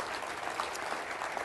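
An audience applauds steadily during an interview at the WEST 2012 event, a faint, even wash of clapping that carries on for the whole moment with no voices over it.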